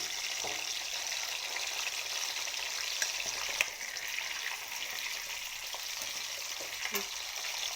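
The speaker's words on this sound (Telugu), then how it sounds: "ఉసిరికాయలు వేసుకుందాం ఎర్రగా వేపుకోవాలి" Amla gooseberries fry in peanut oil with a constant crackling sizzle, close and moderate in level, broken by a few light clinks and stirs.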